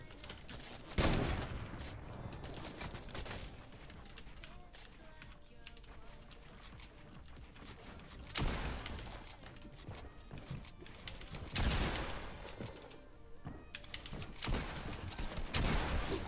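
Pump-action shotgun blasts in a video game: a few loud, sharp bursts spread across the clip over continuous game noise and clatter.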